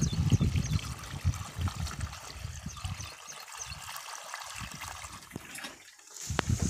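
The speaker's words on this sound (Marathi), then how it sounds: "आता पंपामध्ये पाणी भरत आहे" Water pours into the tank of a pesticide sprayer pump on a soybean farm, an uneven trickling and gurgling stream, close by and fairly soft, with a short quieter gap before the flow picks up again.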